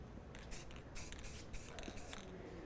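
A spray paint can mists onto epoxy in several short, quiet hissing bursts of about a quarter to half a second each, close and alone.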